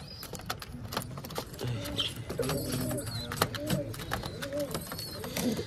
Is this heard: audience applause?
no